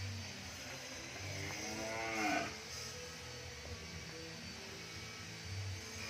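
A single drawn-out moo from French breed cattle, moderately distant, rising out of a constant low mechanical hum and background drone before fading back into it.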